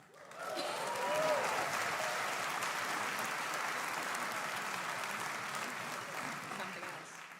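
Concert audience applauding at a Celtic Colours show, a quiet, distant, sustained patter of many hands swelling briefly early on and then holding level, with some voices mixed in.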